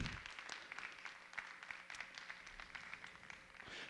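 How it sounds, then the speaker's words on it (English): Audience at a TEDx education talk applauding teachers, a steady dense patter of many hands clapping throughout, moderately loud and sustained. "Just applaud all of the hard work that our teachers do for us."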